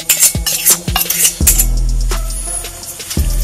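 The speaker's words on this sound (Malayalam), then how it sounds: "നന്നായി ഇളക്കി കൊടുക്കുക." A spoon stirs a mixture of camphor, coconut oil and aloe vera gel in a bowl, giving several distinct clinks and scrapes against the container, close and fairly loud.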